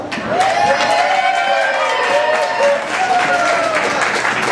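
An indoor crowd at Reading Liederkranz claps and cheers loudly and continuously, with whoops and shouted voices rising over the dense applause.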